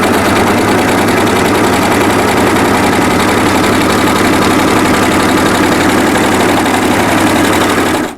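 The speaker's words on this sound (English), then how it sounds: "The great thing about the overlocker is that it is super fast, it's super neat, it makes a really strong bag." An overlocker serger stitching fabric for a drawstring bag gives a loud, steady, close-up mechanical whir with a rapid chattering texture that runs unbroken for the whole stretch.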